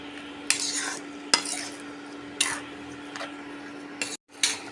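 A spoon stirs a thickening carrot and tomato barfi mixture with sugar in a pan, making four or five separate scraping sweeps with clinks over a soft background hiss and a brief dropout.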